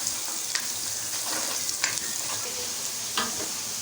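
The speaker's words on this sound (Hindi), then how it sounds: "प्याज मेरे अच्छी तरह से ब्राउन हो रहे हैं।" About two large onions fry in oil until brown, a steady moderate sizzle with occasional stirring scrapes and pops, no speech.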